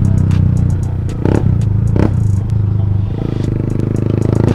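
A Yamaha FZ motorcycle with a loud modified exhaust revs close by, rough sputtering bursts and crackles rising and falling with sharp throttle blips over a low rumbling idle.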